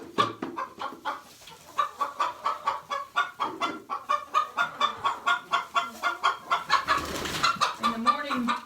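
Several chickens cluck and chatter close by in a steady stream of short, repeated calls, growing busier toward the end with a faint low murmur beneath.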